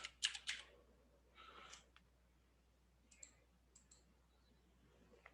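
Keys clatter on a computer keyboard in a few short, quiet bursts of clicking, spaced out with gaps of near silence between them.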